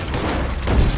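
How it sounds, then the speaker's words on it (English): Gunfire in Red Dead Redemption 2 on the island of Guarma, a dense burst of booming shots over about a second, loud and close with no talking. "Dumbass missed all his shots."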